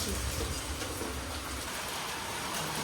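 Heavy rain pours nonstop after three hours of evening downpour, a dense, even roar of water that stays loud and steady throughout.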